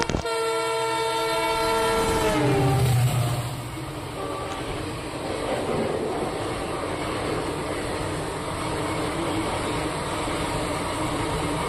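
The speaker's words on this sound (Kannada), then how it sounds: "ಫ್ರೆಂಡ್ಸ್ ನೋಡಿ, CSMTಯಿಂದ ಹೊಸಪೇಟೆಗೆ ಹೋಗೋ ಸೂಪರ್ ಫಾಸ್ಟ್ ಎಕ್ಸ್ಪ್ರೆಸ್ಸು ಓವರ್ಟೇಕ್ ಆಗ್ತಿದೆ" A superfast express train running from CSMT to Hosapete overtakes on an Indian railway line, its horn blaring at the start before the loud, steady rumble and rush of the passing carriages fills the rest.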